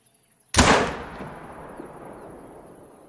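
A single sharp rifle shot fired at a lioness in a hunting video game bursts out loud and close, then fades in a long rolling echo across open terrain.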